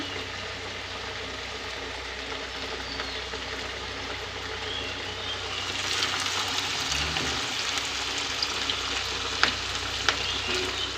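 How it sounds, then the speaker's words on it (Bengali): Mixed vegetable fritters deep-frying in oil, a dense continuous bubbling sizzle heard close up that grows slightly louder partway through, with a few faint clinks and no talking. "সমস্ত এই যে পাঁচ মিশালি বড়া আমার ভাজা হয়ে গেছে"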